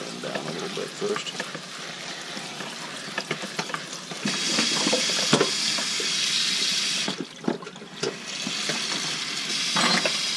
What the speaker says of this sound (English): Spray them down a little bit first.